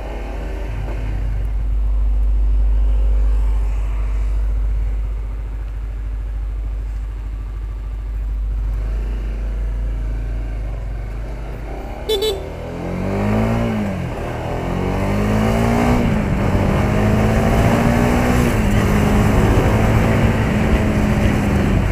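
A 2021 Honda CBR150R motorcycle engine drones deep and bassy while riding, rising and falling as it revs and accelerates, loud and steady with wind noise and no talk.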